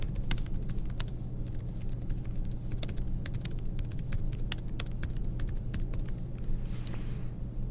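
Steady keyboard typing while text is entered into a Google Jamboard textbox, with rapid irregular key clicks running throughout over a constant low hum, no voices.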